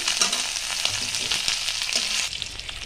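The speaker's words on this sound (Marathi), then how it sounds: "कढीपत्ता घातल्यानंतर मिरचीचं वाटण अगदी मिनिटभर परतून घ्यायचंय" Green chili paste sautéing in hot oil with cumin and curry leaves, a steady close sizzle with faint stirring scrapes throughout and no talking.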